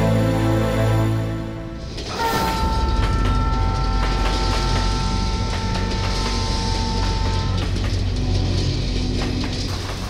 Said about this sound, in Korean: 새벽 2시 우름치를 떠나 투르판으로 향하던 특급 열차가 사막을 횡단하고 있었다.